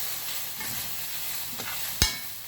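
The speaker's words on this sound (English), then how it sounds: "I'm just going to give this a stir." Tandoori chicken curry being stirred in a pan, a soft steady sizzle and scraping throughout with one sharp clack of the utensil against the pan near the end; no talking.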